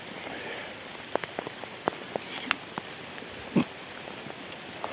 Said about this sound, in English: now it's pouring down rain on us